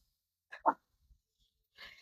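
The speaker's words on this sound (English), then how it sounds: "My dog is being annoying." A dog lets out a short, sharp bark, followed by a brief pause and another quieter burst, close by in an otherwise quiet room.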